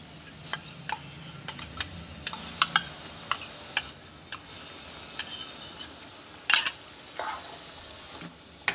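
Fresh cream stirred into chicken gravy frying in a pan, with a steady low sizzle under repeated light clicks and scrapes of a spoon against the pan, close and fairly quiet.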